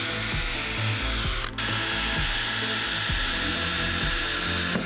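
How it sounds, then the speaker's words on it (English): A power drill bores mounting holes into a wooden board, the motor whining steadily and loudly at close range for several seconds, with one brief dip in the middle. "Then drill a mounting hole in each corner."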